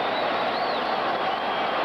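Dense, steady roar of a football stadium crowd cheering, urging the Giants on at a 1986 Eagles–Giants game, loud and continuous with a few whistles rising above the din.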